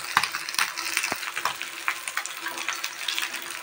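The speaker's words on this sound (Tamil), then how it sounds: "நல்லா ஃப்ரை ஆனதுக்கப்புறம் தான் நம்ம திருப்பி போடணும்." Anchovies frying in hot oil in a pan, a continuous bright sizzle with crackling pops and a few sharper spatters, close and fairly quiet.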